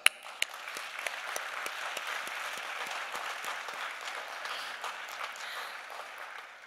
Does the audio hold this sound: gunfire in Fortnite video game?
no